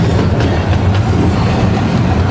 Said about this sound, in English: So look, another steam engine there.